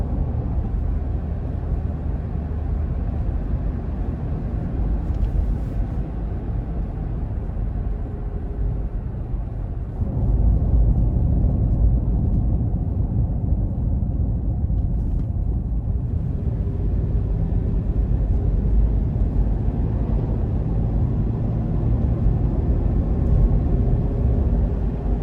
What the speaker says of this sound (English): the sound within the cabin is not as loud as I would have expected from a Toyota 4Runner